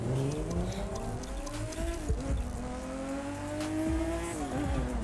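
A Nissan Fairlady Z432 drives in the racing game The Crew 2, its engine revving through rising and falling gear pitches with brief tire squeal, loud and continuous, without speech.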